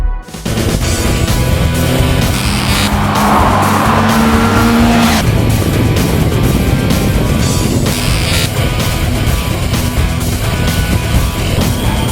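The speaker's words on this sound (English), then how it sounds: "we have in our hands the 2011 Triumph 675R, which is a pretty nifty piece of British engineering as well" A 2011 Triumph 675R, a British 600-class supersport motorcycle, runs loud and steady for the whole stretch, with a sustained high engine roar and a rising pitch sweep partway through, with no talking.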